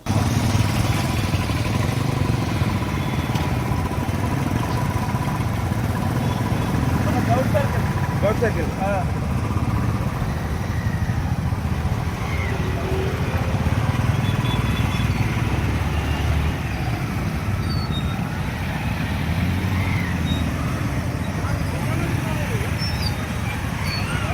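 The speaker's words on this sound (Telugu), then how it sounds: "రెడ్డి, నందికొట్కూరు సిఐ సుబ్రహ్మణ్యం మరియు డివిజన్ పరిధిలోని ఎస్ఐలు, కానిస్టేబుల్ బైక్ ర్యాలీలో పాల్గొన్నారు." Motorcycles in a helmet awareness bike rally, a steady rumble of many engines idling and moving along a road, continuous and moderately loud beneath ongoing talk.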